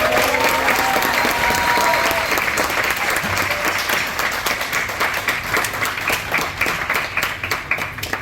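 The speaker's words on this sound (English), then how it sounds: "Will you give me a round of applause?" An audience at a jazz event claps loudly in a steady, dense wash of applause that gradually thins out toward the end.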